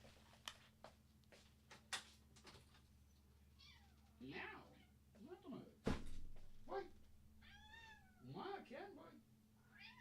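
A cat meows several times close by, rising and drawn-out calls, with a few sharp clicks and knocks between them.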